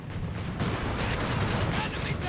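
Mortar pit in Company of Heroes 3 lobbing rounds amid a North Africa battle, repeated dull booms and crackling gunfire blending into a continuous battlefield din, with a commentator's voice running over it.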